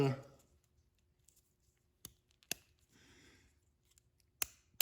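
A 1964-66 Thunderbird turn signal switch clicks back and forth in sharp, isolated snaps spaced irregularly across a quiet background, with a brief voice at the very start.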